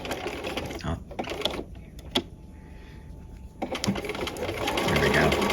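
Sewing machine running a standard 2.5-length straight stitch while sewing a single welt pocket, whirring in bursts with brief pauses and a longer louder run near the end, with a voice talking in between.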